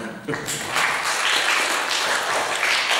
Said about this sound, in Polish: jeszcze trochę więcej oklasków by się przydało